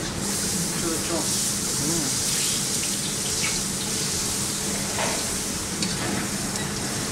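Powdered spices sizzle in hot ghee while cooking khichri, and water is poured in, giving a steady frying hiss with stirring and splashing as a voice talks over it.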